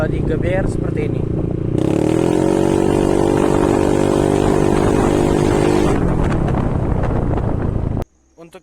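A Yamaha NMAX with a Daytona GP taper slash exhaust revs hard, the exhaust note rising into a loud sustained roar for about four seconds before dropping back to a lower rumble, then cutting off abruptly.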